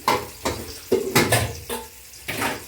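Onions and white garlic being rinsed under a running kitchen tap, with bursts of splashing water and handling, several uneven splashes close by.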